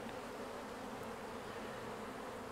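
Honey bees buzz steadily around an open beehive during a honey harvest, a dense continuous hum close by with no speech.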